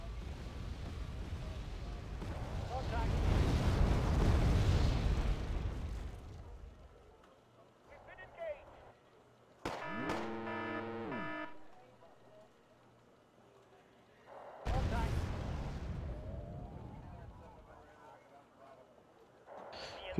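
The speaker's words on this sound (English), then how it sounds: "We're doing counter-artillery fire." Artillery fire in the Wargame AirLand Battle video game during a counter-artillery barrage, heard as loud rumbling broadband blasts in two bursts with a ringing tonal effect between them, under a player's voice.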